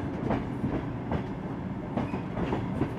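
The Tsaagan Gol private train rolling through the Gobi Desert, a loud continuous rumble from inside the carriage with regular clickety-clack rail joints thudding every second or so.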